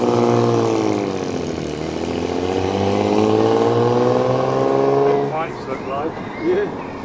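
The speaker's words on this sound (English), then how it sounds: "TR6 and Morgan depart." A Triumph TR6 and a Morgan classic car pull away at a classic car show, engines revving and rising in pitch as they accelerate off, loud and near, with voices afterward.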